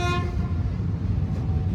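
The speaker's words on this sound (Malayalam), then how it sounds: "ലൂപ്പ് ട്രാക്ക് ആയതുകൊണ്ട് ഭയങ്കര സ്ലോ ആയിട്ടാണ് ഇവർ ചെന്ന് കൊണ്ട് കയറ്റുന്നത് കേട്ടോ പ്ലാറ്റ്ഫോമിലേക്ക്" A train rolls slowly along a loop track into a platform, a brief horn tone fading at the start over a loud, steady rumble of wheels and carriage noise.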